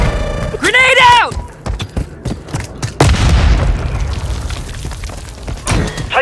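A grenade explosion in Call of Duty MW III lands as a loud boom midway through, amid scattered gunshots and battle noise, with a voice shouting over the action.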